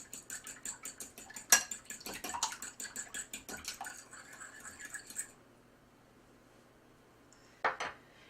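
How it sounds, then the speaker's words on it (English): Three eggs lightly beaten in a bowl, a rapid rhythmic clicking of utensil against the bowl for about five seconds, then a pause and a short final burst of taps. "I have 3 eggs I'm going to beat lightly"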